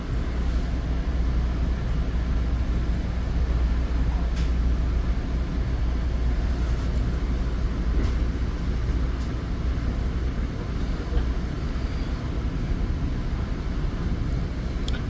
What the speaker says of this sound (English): train was moving and then it stopped.